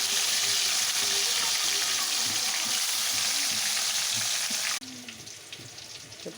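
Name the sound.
food frying crisply in oil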